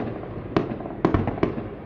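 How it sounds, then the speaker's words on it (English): Fireworks for a New Year's celebration go off near the accommodation, with three or four sharp bangs over a steady crackling, rumbling background, fairly loud and a little distant. "there was going to be, for the New Year's celebration, some fireworks going off in the vicinity of our accommodation"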